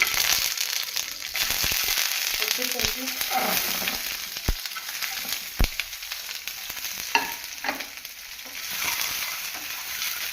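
Boiled eggs, cooked in a pressure cooker, are sautéed in a small amount of oil in a pan for an egg roast. The sizzle and crackle run steadily and close, with sharp pops and stirring scrapes, and nobody speaks.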